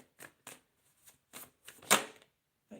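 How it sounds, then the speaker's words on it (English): Tarot cards are shuffled and split during a reading, giving a handful of short, separate riffling bursts and a louder snap near the end, close up and quiet between strokes. "Let's give the cards a shuffle and split the deck."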